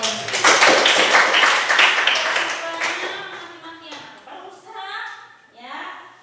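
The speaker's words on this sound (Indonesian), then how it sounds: "Tepuk tangan untuk" A class of schoolchildren claps hands together during a lesson, a loud burst of dense clapping that thins out after a few seconds, then children's voices take over.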